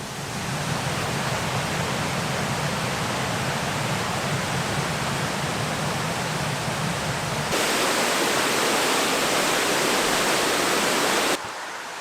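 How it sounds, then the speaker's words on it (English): Waterfalls near an old bridge in a valley, a loud steady roar of rushing water with no pauses. It gets brighter and hissier partway through and then drops back, close by with no voices. "Apologies for the noise, it's the waterfalls."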